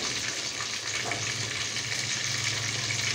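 Chicken pieces fry in hot oil with a steady, close sizzle and crackle that holds evenly throughout, with no talking.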